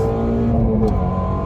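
A car engine roars steadily at high revs, a dense, throaty drone with no voices.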